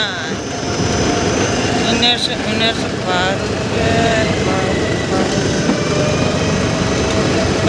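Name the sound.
tractor engine running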